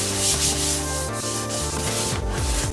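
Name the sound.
scrubbing a black leather car seat with cleaner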